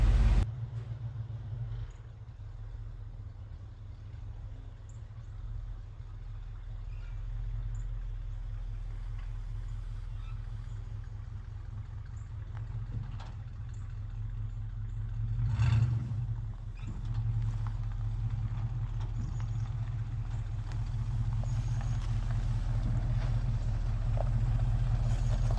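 A vintage big block Chevy squarebody truck driving, a low steady engine rumble heard from inside the cab, swelling briefly partway through.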